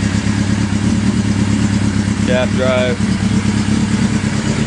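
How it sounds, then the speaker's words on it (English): A custom Suzuki GS850 motorcycle with shaft drive idles with a steady, throbbing exhaust rumble, close and loud, while someone speaks briefly over it. "This exhaust sounds really nice too."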